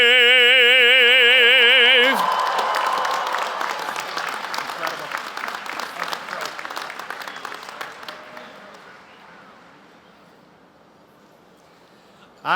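Audience applause breaking out after the national anthem at a University of Mississippi commencement ceremony, a dense wash of many hands clapping that swells loud, then gradually thins and fades over several seconds, with the sung anthem's final note ending just before.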